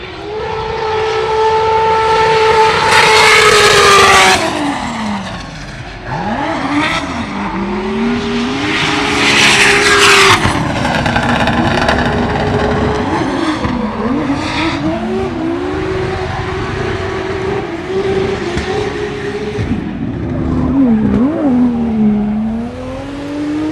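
A drifting Mercedes-AMG GT fitted with a 2JZ engine screams around a track at a drift practice in Spain, loud revving engine notes rising and falling with long tire squeals across the run.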